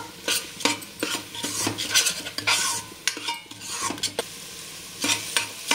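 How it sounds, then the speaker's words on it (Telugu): A spoon scrapes and clinks against a pan again and again while stirring a tomato curry with turmeric and garam masala, with a low sizzle underneath and no talk. "ఇప్పుడు ఒకసారి ఇదంతా కలిపేసుకుందాము."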